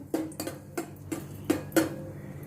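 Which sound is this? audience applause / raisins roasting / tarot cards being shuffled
raisins roasting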